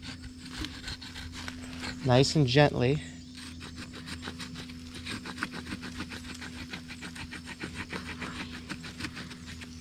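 Rhythmic back-and-forth rasping of a stone knife sawing wood, steady strokes close by, with a short spoken phrase early on.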